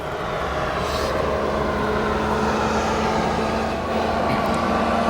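Steady, loud roar of a Turkish Airlines jet from Istanbul rolling out after touchdown on runway 9 Center at Chicago O'Hare, a continuous broadband rumble with engine whine, no voices.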